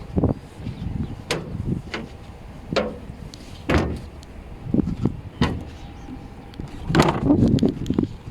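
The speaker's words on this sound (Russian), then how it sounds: "первый раз открываю дверь Ту-154" The door of a museum Tu-154 airliner is opened: a series of sharp metallic clunks, latch clicks and thuds spaced irregularly, close and fairly loud, ending in a longer grinding scrape.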